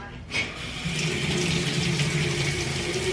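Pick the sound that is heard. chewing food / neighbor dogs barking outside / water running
water running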